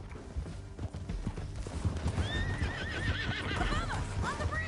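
Horses gallop with steady clip-clop hoofbeats while a horse whinnies in rising and falling calls, amid a busy chase scene in the Red Dead Redemption 2 video game.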